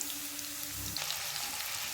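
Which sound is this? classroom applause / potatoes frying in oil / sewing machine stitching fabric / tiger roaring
potatoes frying in oil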